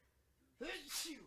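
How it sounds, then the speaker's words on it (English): A single loud, close human sneeze, a short sharp burst following a faint breath, ending with a brief groan. "I've been sneezing all day."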